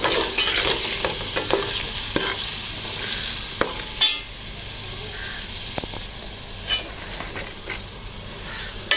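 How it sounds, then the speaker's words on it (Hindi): Chicken and masala being fried in a hot pot for Pakistani dal gosht, with a steady sizzle and repeated scraping stirs, close and fairly loud, with no talk. "अब मैं मसाला डाल के भून रही हूँ।"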